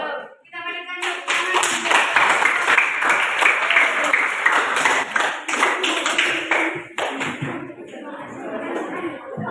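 Classroom audience clapping after a group presentation, a burst of dense applause from many hands lasting several seconds, close and loud, then thinning out.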